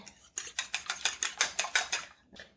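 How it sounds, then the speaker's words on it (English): A whisk or fork beats an egg in a bowl for butter bread, about nine quick, even strokes clattering against the bowl at close range, alone with no talk. "I'm going to beat my egg and set it aside"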